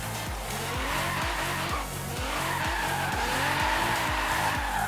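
A Nissan R35 drifting in Forza Horizon 3 gives a continuous loud tire squeal and skid over a pulsing, repeatedly revving engine, steady throughout with no pauses.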